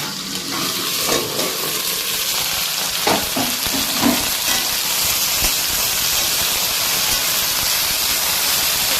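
Okra for spiced bhindi fries in a covered pan with a loud, constant sizzling hiss, plus a few soft clatters and stirring scrapes, and no talking.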